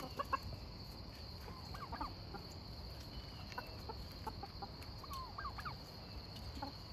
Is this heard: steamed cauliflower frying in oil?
no